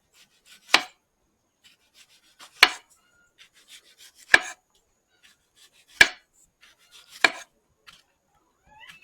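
A knife slices an onion thinly on a board with five sharp, separate cuts at an even, unhurried pace, close and clear against near silence.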